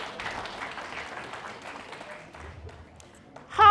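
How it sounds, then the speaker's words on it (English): Scattered applause from a crowd at a fashion event fades in and out beneath a speaker's voice, ending in a sudden loud burst. "Let's give them a round of applause once again."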